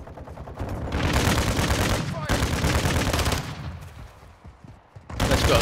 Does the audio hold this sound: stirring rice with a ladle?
no